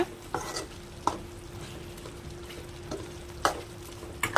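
A spoon scrapes and stirs chicken curry with chili powder in a hot pan, a few sharp clinks and scrapes standing out over a soft, steady sizzle.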